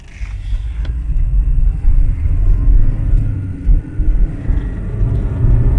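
A 2012 Hyundai Accent with a check engine light on accelerates uphill at wide open throttle, heard from inside as a loud low rumbling drone with uneven surges and faint rattling.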